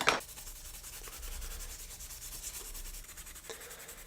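Steady scrubbing of Scotch-Brite against a 1:32 scale diecast Chevrolet Chevelle model car body, a soft continuous rubbing texture, close and quiet, with no talking.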